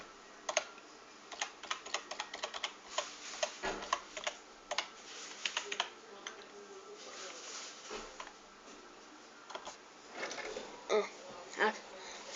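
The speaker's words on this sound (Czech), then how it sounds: "Takže já si sem jenom napíšu můj e-mail." Fingers type an email address on a computer keyboard in quick, uneven bursts of light clicks, close and clear, with someone speaking Czech quietly over parts of it.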